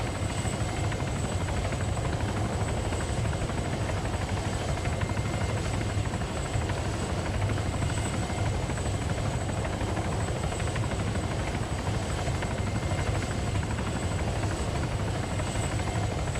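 A military helicopter taxis to active runway 22 left, heard as a steady, loud rotor and turbine drone that fills the whole stretch with no letup and no voices.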